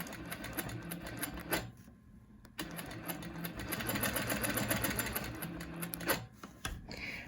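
A sewing machine works in ruler-guided quilting, running in steady close bursts with a brief stop near the start and short pauses as the fabric is shifted.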